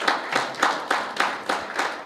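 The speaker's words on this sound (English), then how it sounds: "You could still give him a hand of applause." Audience at a basketball symposium clapping, a few people giving steady, evenly spaced claps at close range, fairly light and with no talk over it.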